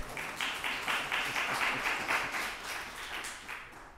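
An audience at a leadership conference applauds, a fairly faint, steady wash of many hands clapping from a distance, lasting the whole stretch with no talk over it.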